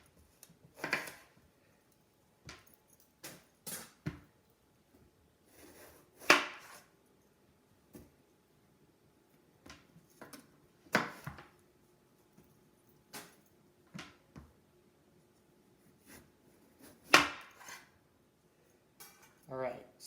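Knife slicing down the middle of an eggplant for Italian stuffed eggplant, heard as a series of sharp, separate chopping knocks against a cutting board spaced a few seconds apart, near and fairly quiet.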